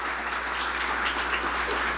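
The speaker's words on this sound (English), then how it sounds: "I would love you to join me in a round of applause for our host, Dr. Lepre" Steady applause from an audience greeting the host, Salisbury University's president, at a United Way campaign kick-off; even, continuous clapping throughout with a low hum beneath and no clear talk.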